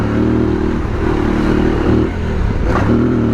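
An Aprilia Tuareg 660 motorcycle engine hums steady and loud while riding off-road through trees, with wind rush over it and a brief clatter near the end.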